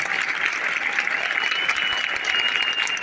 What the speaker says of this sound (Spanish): Un aplauso muy grande para Jesús Acaraí, nuestro director de manufactura